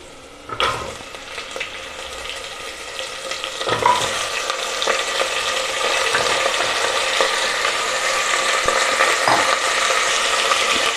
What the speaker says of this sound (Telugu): నేను ఇప్పుడు బోన్ పీసెస్ యాడ్ చేస్తున్నాను